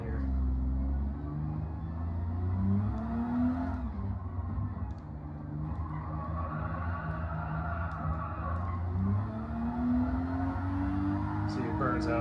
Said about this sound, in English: See, it burns out in third gear. All the way to 100 miles an hour, it's burning out.